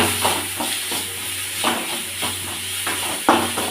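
Chopped onions sizzle and fry in a pan for prawn thokku, a steady hiss broken by a few louder crackles and scrapes of stirring.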